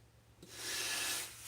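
A sanding bar rubs across a wooden scale-model part in a steady, light rasping stroke that starts after a brief quiet and swells, close and dry, then eases off.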